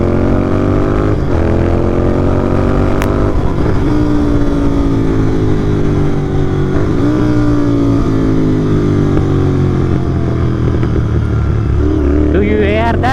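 A GT650 motorcycle engine and exhaust runs loud and close, with revs rising and falling across several throttle blips; a voice speaks briefly over the steady engine drone.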